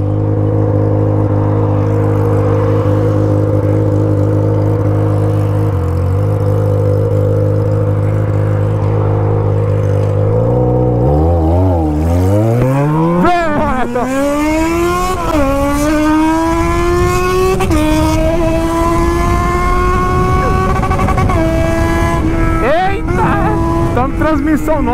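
A Yamaha XJ6 motorcycle engine idles steadily, then revs up repeatedly, pitch climbing and falling in loud surges, close by.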